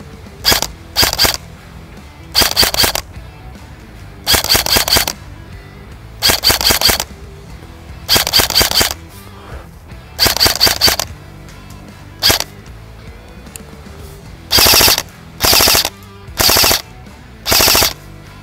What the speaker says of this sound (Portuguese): Vamos reencher e dar alguns outros disparos um pouco mais longe.